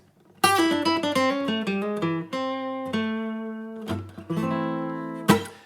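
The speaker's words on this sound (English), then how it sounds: "the Sneaky Blues Lick we're going to learn today is going to sound like this" A short blues guitar lick, a quick run of plucked notes, bends and a held note, ending with a strummed chord, clear and close.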